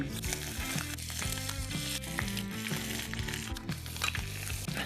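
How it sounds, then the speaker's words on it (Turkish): Thin bacon strips sizzling and crackling as they fry in a pan, a loud, continuous hiss under a steady layer of tonal background sound. "Kızarana kadar onları incecik zaten böyle fıkır fıkır oynamaya başladılar"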